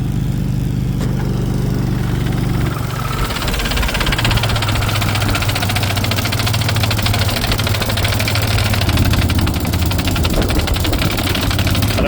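A jetter engine runs loud and close during roof vent jetting, a rough, rattling drone with a knocking throb, its exhaust gone and smoking, continuous throughout.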